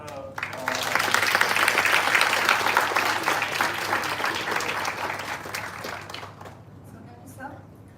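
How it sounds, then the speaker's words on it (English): Sustained applause from a panel discussion audience, a dense steady wash of clapping that builds quickly, holds loud for several seconds and then thins out toward the end. "Good round of applause for all the."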